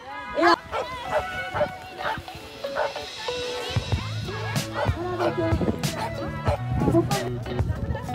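Many sled dogs, including huskies, bark, yip and whine excitedly in overlapping bursts, near and loud, while a person talks over the noise at a dog sled race in Switzerland.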